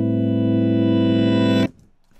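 A reversed sample in Ableton with beat-mode warping at transient setting 100, a sustained dense harmonic tone holding steadily for about a second and a half before cutting off abruptly into a faint tail.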